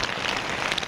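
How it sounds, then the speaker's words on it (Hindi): Heavy rain pours steadily outside a camp in Kedarnath, a dense, continuous hiss of drops drumming on surfaces close by. "बहुत ज़्यादा बारिश हो रही है।"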